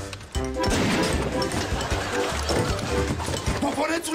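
Door smashed open in a Romanian comedy scene: a loud crashing bang followed by repeated heavy thuds and clatter, with people shouting over the commotion throughout.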